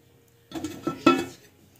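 A lid set down on a cooking pan of mushroom gravy gives a few close metallic clanks and clinks over about a second, with the loudest knock near the end, then quiet.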